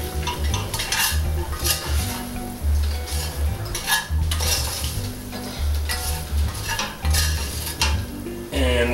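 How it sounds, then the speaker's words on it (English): Beef bourguignon stirred in a pot fresh from the oven, loud close scraping and clinking of a utensil against the pot in repeated strokes over a low simmering sizzle, no talking. "give it a stir"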